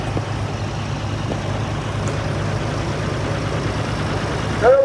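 An early red Commander 6000 six-cylinder diesel tractor, a 1963 model, in a steam and gas show parade. Its steady low engine rumble runs throughout, with a brief whistle-like chirp at the very end.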